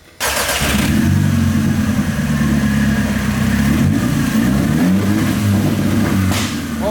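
A $900 Audi engine revs hard at full throttle after a brief start, a loud, steady close roar with rough crackles from the exhaust spitting flames, running alone without speech.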